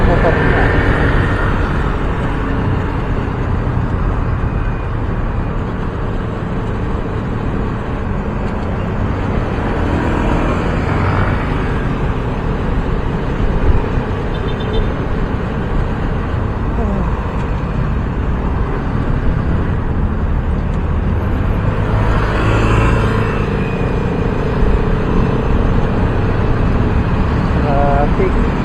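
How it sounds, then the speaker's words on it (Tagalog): Steady road traffic on Commonwealth Highway, with a continuous loud rumble of cars and motorcycles close by throughout, and faint talk beneath it. "Traffic."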